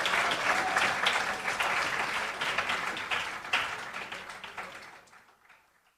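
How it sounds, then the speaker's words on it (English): Sustained applause from a crowd at a national awards ceremony, steady and full, then fading away to near silence at the end. "they deserve a round of applause"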